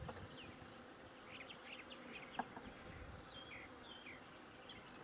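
A swarm of honeybees caught in a hive box buzzes as a faint, continuous drone, with individual bees whining past close by and one brief knock, no voices.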